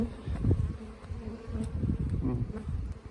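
Steady, dense buzzing of many honeybees close by at an apiary, a continuous hum with slight swells in loudness and no voices.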